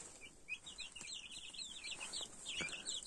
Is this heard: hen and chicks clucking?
yes